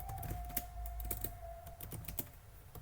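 Quick, steady keystrokes on a computer keyboard while Python code is typed, close and fairly quiet, with a faint tone humming in the background for the first half.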